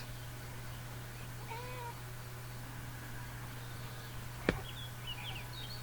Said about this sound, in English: Oh, my kitten's just woken up.